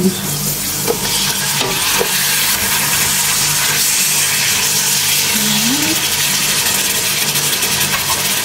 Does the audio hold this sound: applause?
no